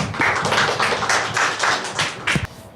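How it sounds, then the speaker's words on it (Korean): A church congregation claps together during a service, giving a steady run of quick, loud, rhythmic claps that lasts a few seconds before stopping. "우리 박수 한번 치겠습니다"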